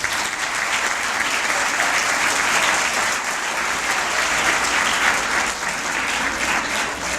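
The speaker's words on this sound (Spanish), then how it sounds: "profesor Arturo Delgado Moya, a quien pido un fuerte aplauso." A crowd at a school presentation in Nuevo León, Mexico, gives sustained applause, a loud, even wash of clapping that carries on without pause.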